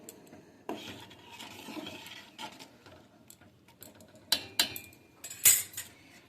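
A spoon stirs vegetable khichdi with peas in a cooking pot, giving soft scraping and a few sharper metallic clinks against the pot, close and fairly quiet with no talk.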